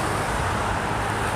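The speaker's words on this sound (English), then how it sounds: "You hear a lot of traffic because school let out" Dense road traffic, made heavier by school letting out, passes as a constant loud roadway rumble and hiss with no distinct single vehicle standing out.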